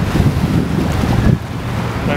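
Wind noise buffets the microphone on a boat cruising the Seine in Paris, a loud, steady low rumble with gusty surges over the water, sustained throughout.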